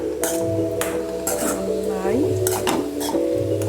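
Spinach thoran, Kerala style, being stirred in a pan, with a utensil scraping and clinking against the metal in repeated strokes close by, over a steady background hum.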